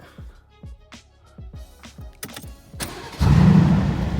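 Car engine started with a keyless key: a rhythmic series of cranking pulses, then the engine catches and settles into a loud, steady idle close by.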